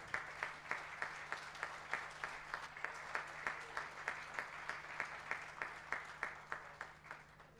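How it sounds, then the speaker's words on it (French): Rhythmic clapping from an audience at a formal ceremony where a document is handed to a minister, steady evenly spaced claps throughout with a low hum underneath. "Applaudissez un peu plus fort, s'il vous plaît."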